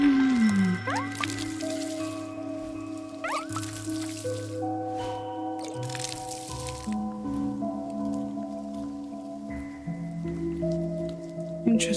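In the video game Wanderstop, a planted pink seed is watered, giving soft squishy droplet sounds over layered gentle synth tones, quiet and calm with no talking.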